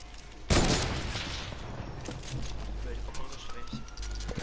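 Gunshots fired into the air in a shooter video game: one sharp loud crack near the start, then fainter scattered shots and game noise, with a voice speaking over it.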